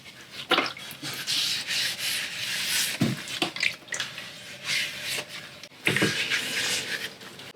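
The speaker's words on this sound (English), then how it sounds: "let's go ahead and start oiling this up" Steady rubbing strokes oiling a wooden charcuterie board, a cloth or pad working back and forth in repeated swipes with brief pauses.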